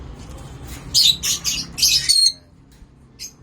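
Pet lutino opaline birds give a burst of loud, close, shrill squawks and chirps while being fed pechay, then fall quiet apart from one brief call near the end.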